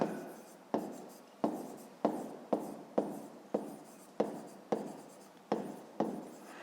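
A pen writes steadily in a school notebook during a fifth-grade maths exercise, about ten short scratchy strokes in an even rhythm, close and quiet, with no talking.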